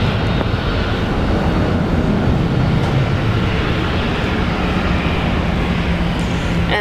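A Qantas airliner lands at Brisbane airport in heavy rain, its loud, steady jet roar filling the air alongside the dense hiss of rainfall throughout.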